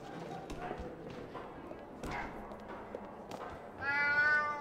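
A cat meows in the video game Alice Madness Returns, with a clear, drawn-out meow near the end following a stretch of German talk and soft thuds.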